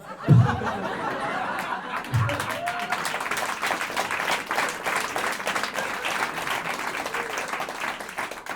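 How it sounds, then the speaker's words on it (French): Steady applause from a stand-up comedy audience, dense clapping that runs throughout, with a couple of low thumps near the start and scattered laughter mixed in. "vous avez applaudi trop vite"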